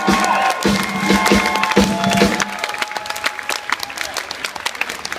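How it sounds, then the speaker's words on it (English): A concert crowd at a band's last show claps and cheers loudly, with dense, close applause, shouts and whistles, and some sharp nearby claps standing out before the noise thins a little. "they need a fucking round of applause as well"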